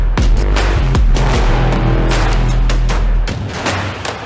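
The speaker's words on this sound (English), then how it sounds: "My first shoot was today, machine gun." Loud machine-gun fire at a shooting range, with fast bursts of close, sharp shots rattling off in quick succession and a brief pause near the end.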